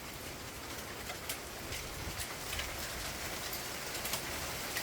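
Hail falls outside in a dense, steady patter, with scattered sharper ticks of individual stones striking surfaces throughout.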